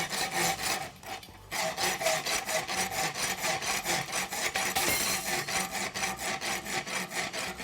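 A farrier's rasp filing the concave of a forged horseshoe: steady, rhythmic back-and-forth grating strokes, loud and close, with a brief pause near the start.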